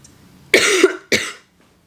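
Two harsh coughs in quick succession, close and loud, then silence.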